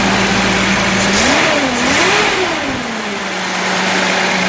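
A 1976 Datsun 280Z engine, loud and close, revs up from idle in a couple of rising and falling blips before dropping back to a steady idle.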